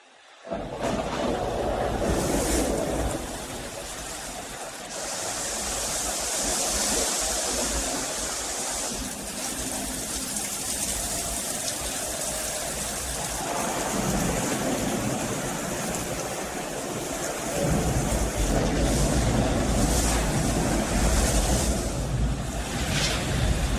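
Heavy, steady rushing roar of a torrential rain deluge with thunder in Epcot's Living Seas attraction fills the whole stretch, loud and unbroken, with deep low rumbling beneath.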